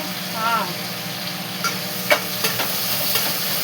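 Small fish called nethallu fry in a pan with a steady sizzle, while a spoon stirs and scrapes the pan several times at close range.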